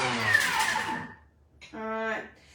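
A Thermomix on turbo chops crab salad ingredients in two short loud whirring bursts separated by a brief pause, the second burst steadier and more tonal.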